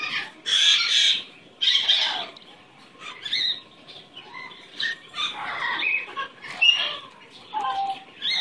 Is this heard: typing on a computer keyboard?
no